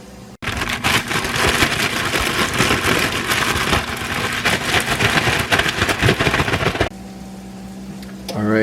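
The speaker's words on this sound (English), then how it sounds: "throw the seasonings in there and then just shake it around" Brussels sprouts tossed with olive oil and seasonings are shaken hard in a closed container, giving a loud, steady rattling and pattering that runs for several seconds, then cuts off abruptly into quieter room sound.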